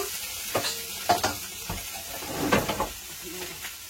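Water hits a hot fish-frying pan with a sharp hissing sizzle and a few clattering stirs, heard close up.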